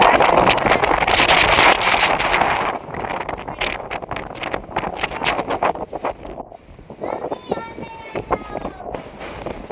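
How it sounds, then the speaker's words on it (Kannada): Strong wind roars and buffets the microphone loudly, easing after a few seconds, with a voice heard faintly underneath. "ಎಷ್ಟು ಗಾಳಿ ಬರ್ತೈತಂದ್ರೆ ಫುಲ್ ಮಳೆ ಬರ್ತಿತ್ತು"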